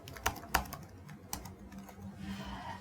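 Irregular clicks of keys tapped on a computer keyboard, a few louder strokes among softer ones, close by with faint background hum.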